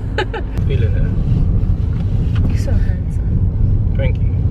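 A car drives fast on the road, a loud, steady low rumble of engine and tyre noise from inside the cabin, with people talking over it.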